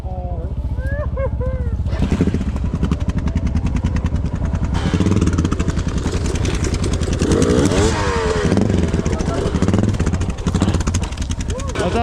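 An enduro motorcycle engine runs steadily throughout at close range, a loud continuous rumble with a brief rise in revs midway, while people talk over it outdoors.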